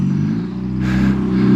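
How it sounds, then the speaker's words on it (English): A neighbor's car passes along a 25 mph residential road. Its engine hums steadily and fairly loudly nearby, swelling slightly as it goes by, with no speech. "Car coming in."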